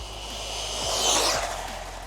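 An RC Hoonitruck driven at full throttle, its small motor giving a high, rising whine that swells briefly as it passes and then eases off.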